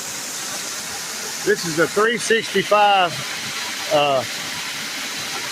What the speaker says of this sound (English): 365 day a year waterfall.